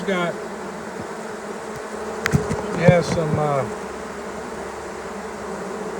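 Honeybees buzz steadily around a colony holding an unmated queen from a swarm, a dense continuous drone with a brief louder swell from a nearby bee; a voice speaks briefly.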